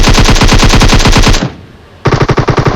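Gunfire in a shooting video game: loud, close automatic bursts of rapid shots stop briefly, then resume with another fast burst, with no talk.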